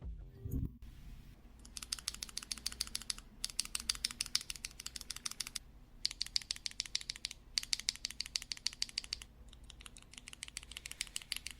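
Mechanical keyboard switches, stock and lubed with Krytox, being typed on in quick bursts of rapid clicky-clacky keystrokes, close and fairly quiet, separated by short pauses, with no talking.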